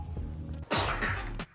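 A single sharp, breathy sneeze bursts out close by after a brief low hum, followed by a short second burst.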